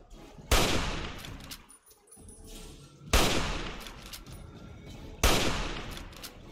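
Three loud gunshots ring out in Fallout 3, each a sharp blast about two to three seconds apart, followed by a long decaying echo. Faint game ambience fills the gaps.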